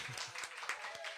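Faint, thin applause from a small audience at a spoken-word show in a Peckham art lounge greets performer Charlie, scattered claps sounding at a distance with murmured voices mixed in.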